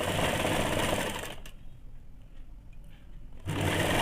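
A sewing machine stitches a ladies' scarf, its loud motor whirring steadily, then dropping away for a couple of seconds of near quiet before the stitching resumes at full speed.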